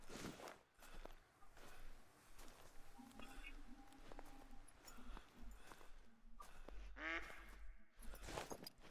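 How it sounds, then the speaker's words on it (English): Ducks quack in the hunting game theHunter: Call of the Wild, on the Askiy Ridge map at night. The short, faint calls come and go over soft footsteps and a quiet murmured voice. "we got some ducks flying around"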